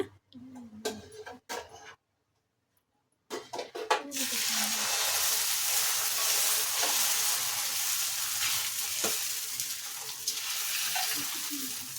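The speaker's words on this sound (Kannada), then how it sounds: "ಈ ರೀತಿ ಎಣ್ಣೆ ಹಾಕ್ಕೊಂಡು ಒಂದೆರಡು ನಿಮಿಷ ಕಾಲ ಬೇಯಿಸ್ಕೊಳ್ಳೋಣ" An egg dosa cooks on a pan with oil, and a steady close frying sizzle fills the second half after some clatter and a short silence. Faint handling sounds come first.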